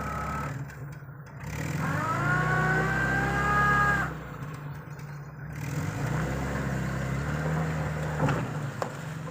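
Car engine revving and pulling away at a young farm, rising tones as it accelerates over several seconds, fading slightly, with steady background noise and no speech.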